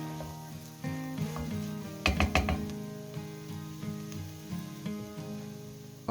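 Steady sizzling of garlic frying in a hot pan for Argentine beef empanada filling, with a few louder clattering stirs midway and a soft hiss throughout.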